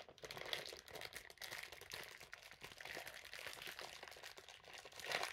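Plastic packaging on a Takara Tomy Beyblade toy is torn open by hand without scissors, producing a continuous soft crinkling and crackling close by, fairly quiet and without pauses.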